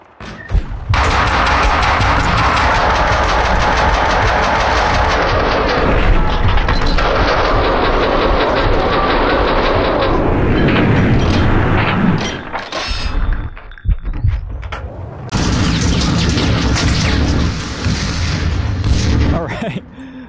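Loud, dense burst of explosive booms and heavy impacts from a Max Payne 2 firefight, filling most of the stretch with a brief lull near the middle before the roar returns.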